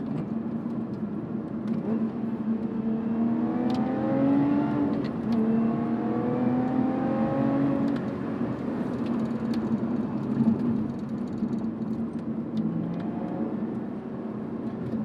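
A Lotus Evora GT's 3.5-litre supercharged Toyota V6 drones steadily with rising and falling revs and a supercharger whine, loud and continuous without any talking.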